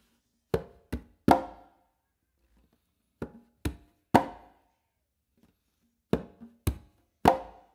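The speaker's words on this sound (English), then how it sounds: "what's going to follow with your non-dominant hand should be a finger" Hand strokes on congas, bass, finger and close slaps, fall in three short groups of three, separated by pauses, close and crisp with quick decay and no talking.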